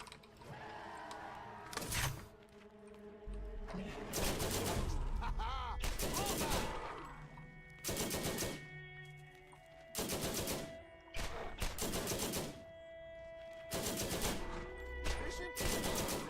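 Scorpio turret firing in Borderlands, loud repeated bursts of automatic gunfire in clusters with mechanical game sounds and a little voice between bursts.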